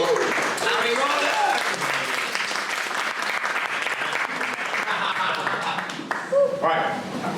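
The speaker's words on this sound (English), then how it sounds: "So a round of applause for our wonderful Harry Ryder." Loud, sustained audience applause at a summer workshop welcomes a speaker to the front, a dense wash of clapping that continues for several seconds and tapers near the end, with some voices mixed in.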